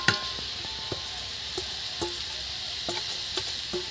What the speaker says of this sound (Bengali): চালটা আমি ধুয়ে রেখে দিয়েছি সেটা দিয়ে দিচ্ছি এর মধ্যে